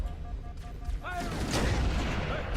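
A gun or cannon shot in a video game booms with a loud burst midway, tailing off into rumbling noise, with a short electronic chirp just before it.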